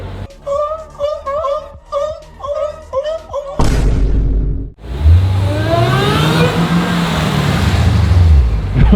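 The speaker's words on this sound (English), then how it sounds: "Another black car." A supercar on a Zurich street roars past close by, its engine revving hard and then swelling into a loud, sweeping drone. Rapid rhythmic pulses come first, and voices talk over the passing.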